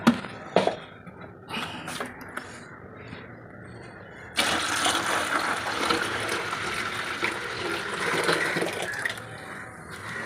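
Liquid from kitchen-waste compost for homemade organic fertilizer is poured out of a bucket, a loud, steady gushing splash that starts abruptly midway and runs on, after a few quieter knocks.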